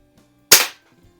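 A rebuilt Diana model 6 air pistol fires once, a single sharp, loud crack that decays quickly, set in an otherwise quiet room with faint mechanical clicks after it.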